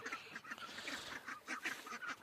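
Domestic ducks quacking in short, nasal, honking bursts, several birds calling over one another at close range with a busy, steady rhythm and no speech.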